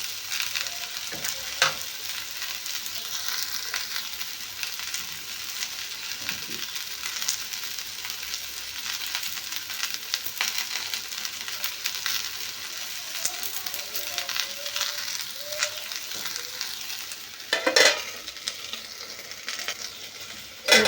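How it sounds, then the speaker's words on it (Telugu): Okra (lady finger) masala curry fries under a lid in a pan, giving a steady close hiss and crackle throughout, with a few brief sharper pops and knocks. "ఇది పచ్చివాసన పోయేంత వరకు ఒక మూడు నిమిషాలు ఇలాగే మూత పెట్టేసి వేగించుకోవాలి"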